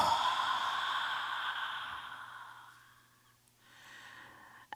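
Forceful exhalations like blowing out birthday candles during a Good Friday church service, a long rushing breath out that fades, then a shorter second puff, close and clear with no talking.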